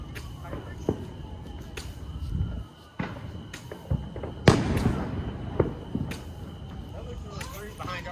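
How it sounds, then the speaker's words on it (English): Fireworks go off in a string of sharp pops and louder bangs at irregular intervals, moderately close, as people chat in the background. "Exciting. Fireworks."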